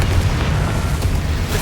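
Confringo fire spell blasting in Hogwarts Legacy, a loud, continuous rumbling boom with crackling bursts layered through it, heavy and close throughout.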